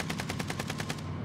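Rapid automatic gunfire in a shooter video game, about ten evenly spaced shots in a quick burst lasting around a second, fairly close and with no talk.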